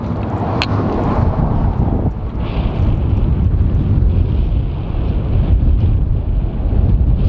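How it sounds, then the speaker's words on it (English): Strong wind at a roadside wind farm roars steadily across the microphone, a loud continuous rumble with gusty buffeting and no speech. "So yeah, super windy."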